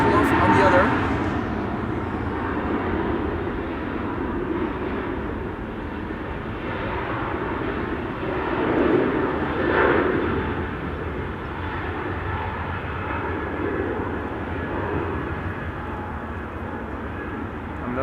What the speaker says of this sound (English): A jet going back to Istanbul, Turkey, A321neo.